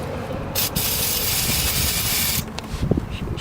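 Aerosol brake cleaner sprayed onto a front brake part of a 2016 Honda Pilot, a loud, close, steady hiss lasting about two seconds after a short burst, followed by faint clicks and handling noises.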